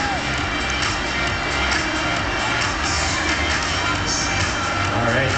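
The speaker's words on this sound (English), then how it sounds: "Give him a round of applause, folks" A crowd at an outdoor bike trials acrobatics show claps and cheers steadily, with loud whoops and children's shouts mixed into a dense wash of applause.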